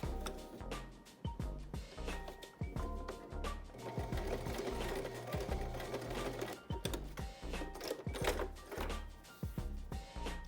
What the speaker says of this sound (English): And then you can sew it.